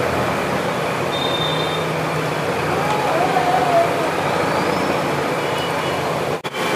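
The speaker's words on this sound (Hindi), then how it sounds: "तो प्याज को देखिए फ्रेंड्स यहाँ पर अच्छे से फ्राई कर दिया जा रहा है।" Onions fry in a large cooking pot during outdoor mass cooking for a festival mutton dish, making a steady, dense sizzling hiss that continues throughout with a brief knock near the end.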